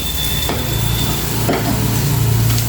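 Onions frying in a pan for an onion egg curry make a loud, continuous sizzle, with a couple of scraping stirs and a low hum underneath.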